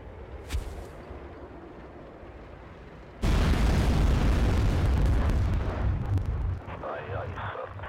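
Massive artillery barrage in the real-time strategy game Act of Aggression: quiet rumbling with an early thump, then a sudden loud wall of overlapping explosions and booms from about three seconds in, easing slightly near the end.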